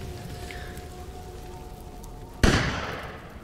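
A single sharp gunshot in the video game Resident Evil Village cracks out after a few seconds of quiet ambience, its echo tailing off quickly.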